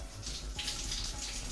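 Warm tap water runs steadily into a sink as bell peppers are rinsed under it, a continuous close splashing hiss with no talk.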